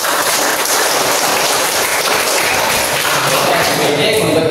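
A class of students claps together in a sustained, dense burst of applause at a physical education lesson, loud and even from start to finish with no talk over it.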